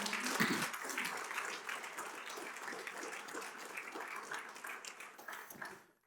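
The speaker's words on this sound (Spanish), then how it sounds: "Démosle un aplauso a Dios por eso" A church congregation at a Spanish-language service applauds, with steady, dense clapping from many hands that sounds somewhat distant and fades out toward the end.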